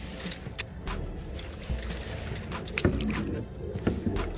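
A canoe or kayak paddled through water on an outdoor trip, with repeated close paddle strokes, splashes and water movement over a continuous background rumble and breeze.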